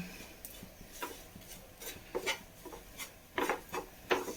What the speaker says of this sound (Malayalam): ഒന്ന് മിക്സ് ചെയ്ത് കൊടുക്കാം ഒന്ന് ഇളക്കി കൊടുക്കാം